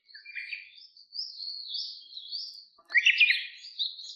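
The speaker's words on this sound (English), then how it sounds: "we got some birds sounding in the background" High, thin bird chirps and warbling tweets in two bursts with a short gap, clear and fairly close, with no other sounds around them.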